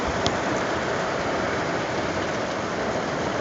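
Hail beats down outside on a rainy summer day, a dense, steady, even hiss of pelting ice with no break and no talk.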